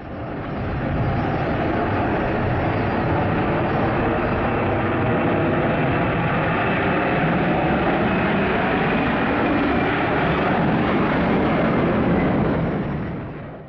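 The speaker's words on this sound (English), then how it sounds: "Enjoy this A330 taking off right into a beautiful sunset." An Airbus A330 takes off at sunset with a loud, sustained jet-engine roar that swells in and holds steady before tapering off, alone with no talk.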